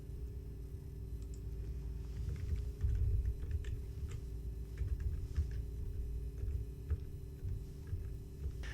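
Login details are typed on a computer keyboard, producing soft, irregular key clicks over a low electrical hum, close and quiet throughout.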